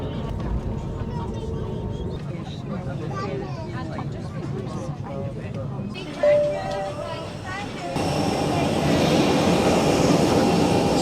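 Jet2 passenger aircraft taxiing on the ground after landing in Tenerife, its engines giving a steady broad roar that swells louder near the end, heard from inside the cabin with a few brief clunks.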